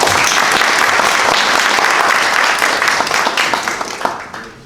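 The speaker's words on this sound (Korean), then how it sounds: "환영의 박수 부탁드립니다." Welcoming applause from the audience at a policy forum in a hall, a dense, steady wash of many hands clapping that holds loudly, then thins and fades out toward the end.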